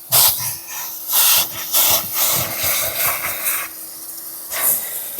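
A Chief steamer vacuum pulls dirt and grime out of a surface with loud hissing bursts of steam and suction in uneven pulses, a faint steady tone running underneath.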